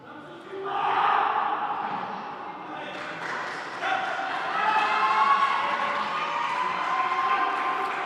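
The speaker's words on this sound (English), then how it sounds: "And the crowd is cheering Sporting team." A sparse group of staff and volunteers cheers and chants for Sporting CP at a futsal match against Invasport Ukraine, a sustained vocal roar that swells slightly in a large, echoing arena.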